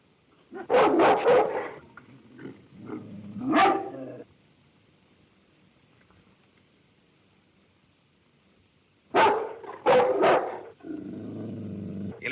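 A dog barks in two bursts, a rapid cluster of loud, close barks, then a long quiet gap before another sharp run of barks with rough growling.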